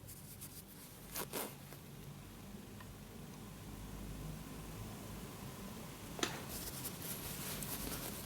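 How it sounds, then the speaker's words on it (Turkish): An invisible zipper on a sewn garment is pulled closed, giving faint, brief scratchy rasps over a low background hiss with no talking. "Şimdi fermuarı kapattığımızda aradaki farkı göreceksiniz."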